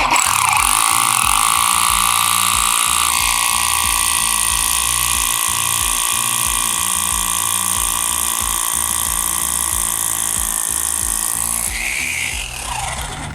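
Mollar HD826 SDS Plus 800-watt hammer drill running steadily in hammer mode with an adaptor fitted, a loud continuous motor whine over a rapid pulsing hammer rattle, briefly changing pitch near the end.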